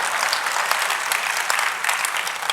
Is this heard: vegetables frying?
no